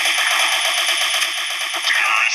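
A Gatling gun fires in the video game Special Force 2 as a loud, dense, unbroken stream of rapid shots with no pauses.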